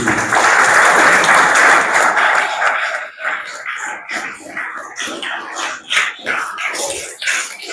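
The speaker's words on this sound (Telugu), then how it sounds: "ఇప్పుడు క్లాప్ తీసుకోండి" At a festival mass at St. Joseph Boy's Home, Araku, an audience claps loudly in a dense burst that thins into scattered claps and shuffling.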